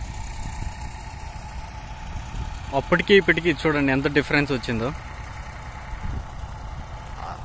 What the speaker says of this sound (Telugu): ఆ 2 ట్రాక్టర్లు మాత్రం వర్క్ అవుతున్నాయి స్పీడ్గా.